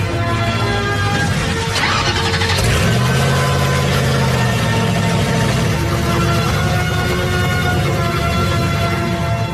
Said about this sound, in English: We start the engine for the first time.